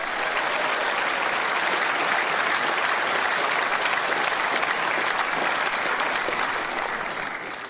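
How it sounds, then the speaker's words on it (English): An audience at a Reform UK conference in the East Midlands claps loudly and steadily for nearly eight seconds, the dense applause fading slightly at the end. "So let's give Kemi a big Reform round of applause."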